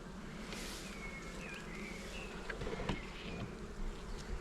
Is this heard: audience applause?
no